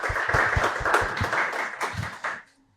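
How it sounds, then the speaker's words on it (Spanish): An audience at a youth internet governance forum on cybersecurity and human rights applauds a speaker, a close burst of distinct claps over a wash of clapping that fades out near the end. "Un aplauso para Carla,"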